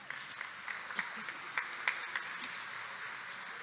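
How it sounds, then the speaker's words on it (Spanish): Faint, distant applause at an engineering professional ceremony, a thin patter of clapping with a few sharper claps standing out over a steady room hiss. "Lo recibimos con un aplauso."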